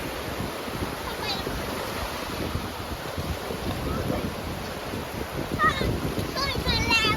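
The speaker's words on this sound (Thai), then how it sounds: "คลื่นมันแรงมาก" Strong sea waves breaking on the beach at Chao Lao, Chanthaburi, before rain, a steady loud wash of surf with gusty wind noise throughout and people talking over it.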